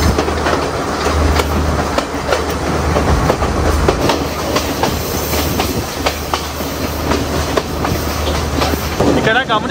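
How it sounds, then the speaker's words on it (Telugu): Riding inside a moving train: steady rolling rumble with sharp, repeated clickety-clack beats from the wheels over rail joints, heard up close and constant throughout. "ట్రైన్లో నుంచి నేను ఇప్పుడైతే ట్రావెల్ చేస్తున్నాను"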